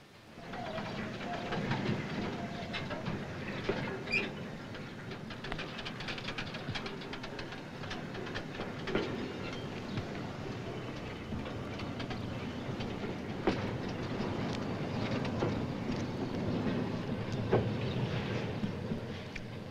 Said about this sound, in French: En roue libre, les wagons descendent la pente pour rejoindre la voie correspondant à leur destination.